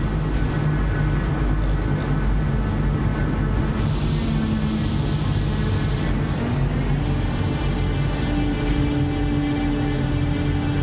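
A C-130 aircraft engine in Microsoft Flight Simulator drones as a continuous loud, even hum with steady tonal layers throughout, unbroken and alone without speech.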